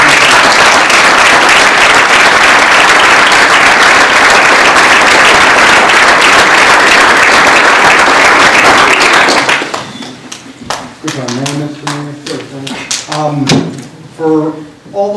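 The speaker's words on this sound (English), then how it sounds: "I think we should give another round of applause to all those folks" Loud, sustained applause for community volunteers at a Medford Township meeting fills the first nine seconds, then breaks off abruptly as a voice starts speaking.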